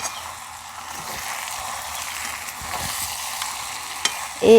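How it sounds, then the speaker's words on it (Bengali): Jackfruit and prawn masala is stirred and sautéed in a pan, making a steady soft sizzle with faint scraping movements and a louder knock at the very end, with no voices. "মাঝে আমি ঢাকনাটি খুলে কিন্তু একটু নাড়াচড়া করে দিয়েছি এইভাবে কষিয়ে নিলে মশলাটাও খুব সুন্দরভাবে ভেতরে ঢুকবে"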